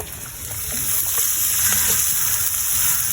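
Onions sizzle in a pan for Jaffna-style paan kothu, a steady close frying hiss that swells slightly and holds.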